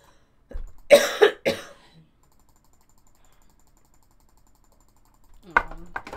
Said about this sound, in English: Take a cough.